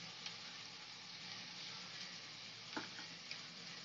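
Paneer curry paste of ground cashews, melon seeds and poppy seeds fries in a pan, a steady dense sizzle throughout with a few soft scrapes and taps as it is stirred.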